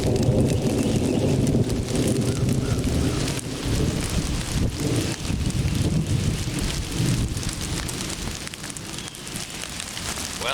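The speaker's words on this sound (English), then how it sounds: "Well, it's come to rain." Rain falls outdoors over a mulched garden, a dense, continuous patter and hiss of drops on surfaces that stays loud and close for the full length, with no talking.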